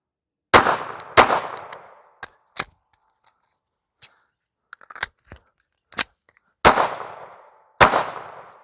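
Gunshots fired at targets on an outdoor range: loud, sharp cracks with ringing decay, a few strong blasts spaced irregularly among fainter pops and clicks, with no talking.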